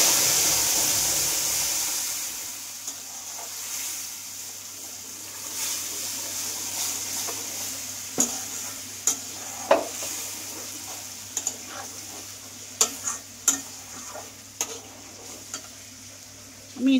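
Paneer and spinach fry gently in a pan over low gas, giving a soft, steady sizzle. Occasional clicks and taps of stirring break through, with no voice heard.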